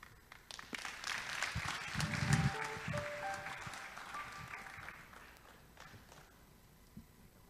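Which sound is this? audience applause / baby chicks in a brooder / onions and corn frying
audience applause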